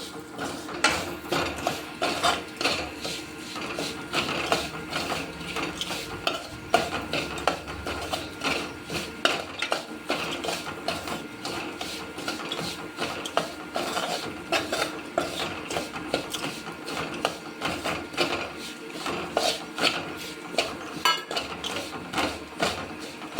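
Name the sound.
stirring and roasting Gujarati lapsi (cracked wheat) in a pan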